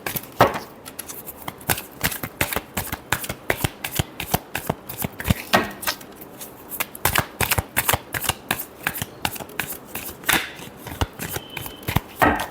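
Tarot cards shuffled repeatedly at close range, crisp rapid riffles and sharp slaps in an uneven rhythm that continues for the whole stretch, loud and alone.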